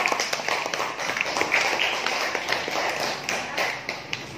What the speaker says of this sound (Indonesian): tepuk tangan buat kelompok 5